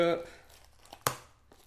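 Cardboard packaging of a Pokémon booster display box torn open by hand, one sharp loud rip standing out after softer crinkling, with a voice talking at the start.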